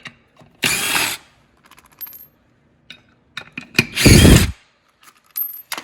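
A ratchet spins lug nuts onto the wheel of a 1949 Chevy 3600 truck, two bursts of rapid clicking close by, separated by scattered metallic clinks and taps of tools and nuts.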